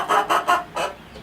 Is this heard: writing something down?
no